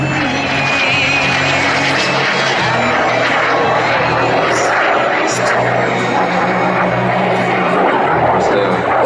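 A BD-5J micro jet, the world's smallest jet, flies at the 2025 La Ferté-Alais airshow. Its steady engine roar holds loud throughout, with a public-address commentator talking over it.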